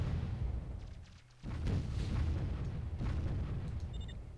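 Dense barrage of weapon fire from units pounding a wall in the strategy game Warzone 2100, booming blasts and crackling impacts rolling on continuously after a short lull, loud and sustained.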